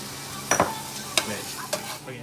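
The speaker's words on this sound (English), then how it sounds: "While we cook our meat, we're gonna add some spices." Taco meat cooking in a pan with salt, cumin and paprika, a soft steady sizzle broken by three sharp utensil scrapes and clacks.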